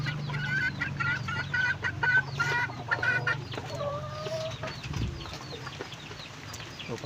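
Pet chickens cluck in quick repeated bursts while being fed, close by over a low steady hum, with a few scattered calls fading toward the end.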